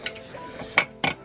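A metal bolt starting into a racing seat mount with a lock washer on an 11/16 setup makes a few short metallic clicks and clinks, two sharper ones close together late on, with no talking.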